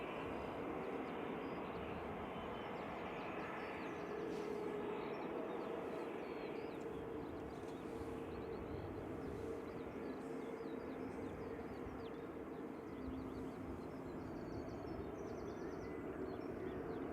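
A Virgin airliner departs Manchester Airport, its steady broad jet roar holding constant and loud throughout, with no talk over it.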